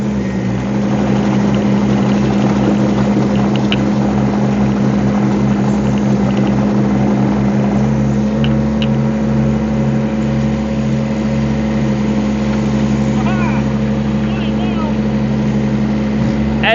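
Rippa R13 and R15 mini excavators drive in high gear, a loud continuous diesel engine drone with steady rumbling and track clatter throughout, the pitch shifting slightly partway through.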